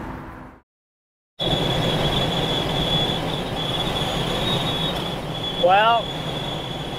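A vehicle light bar with whistling fins sings a steady high-pitched whistle during a test drive, sustained over loud road and wind rumble, with a brief wavering chirp near the end and a short word spoken at the start.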